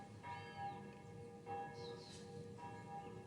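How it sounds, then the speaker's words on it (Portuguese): Church bells of Santa Marina church ring in the distance, faint repeated tolls roughly every second with lingering metallic hum. "os sinos da igreja Santa Marina, olha que delícia"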